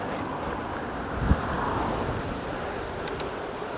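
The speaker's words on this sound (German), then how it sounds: "Erstmal, es ist super windig heute" Strong, gusty wind buffets the microphone while an e-bike rides at speed on a windy day, a continuous low rumble with one brief louder thump and no voices.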